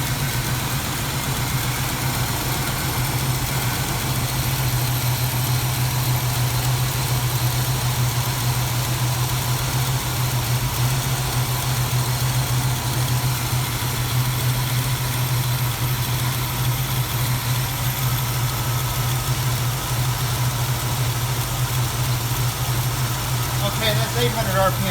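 A Dacia Duster engine idles steadily at about 800 RPM, a continuous low hum with a constant drone and no change in level, close by and alone without talk.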